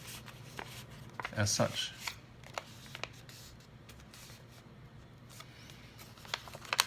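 A paper airplane is folded by hand and its tail fin pushed up, producing crisp crinkling and rustling of paper close to the microphone in short bursts, quiet between them, with a voice talking throughout.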